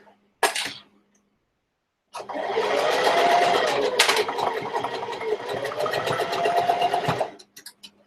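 A sewing machine stitches a zigzag seam for about five seconds in a steady, fast mechanical rhythm after a short initial burst, heard up close with no talking.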